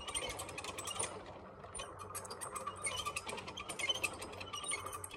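A ratchet mechanism clicks rapidly and steadily as it raises a tall purple martin gourd pole set deep in concrete. The metallic pawl ticking is close and continuous, with a short lull partway through.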